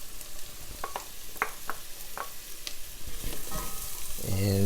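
Garlic and shallots sauté among sweating fennel and onions for an asparagus soup, giving a steady soft sizzle with scattered spoon clicks and stirring scrapes, growing a little louder near the end.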